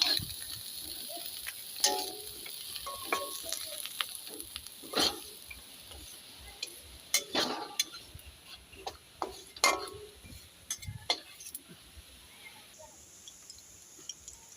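Fried fish being lifted out of a pan of hot oil, with scraping utensil taps and clinks against the pan over a steady light sizzle.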